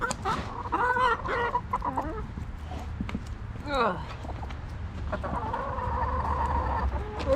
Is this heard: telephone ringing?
no